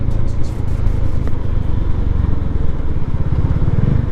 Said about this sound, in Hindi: ये जो बाइक है बहुत जल्दी स्पीड पकड़ लेती है